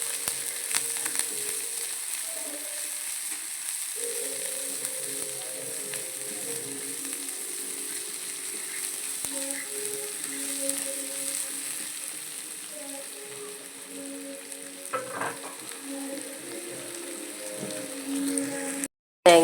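Crushed ginger, garlic and curry leaves sizzle steadily in a hot pan with onion, a continuous bright frying hiss with occasional stirring scrapes, close and even throughout.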